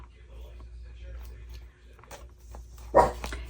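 Pet dogs indoors give a short bark and faint whimpers, hungry for dinner, over a quiet room hum, with one louder burst near the end.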